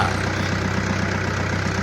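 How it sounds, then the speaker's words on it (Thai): A 2014 Kubota L4708SP farm tractor's diesel engine idles steadily, a constant low rumble with a faint rhythmic chug, heard close and alone. "คันนี้จะเป็นรถไถคูโบต้า"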